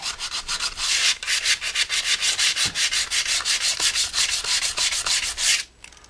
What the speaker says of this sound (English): a lot of times you have to do this with the sandpaper, fold it back a few times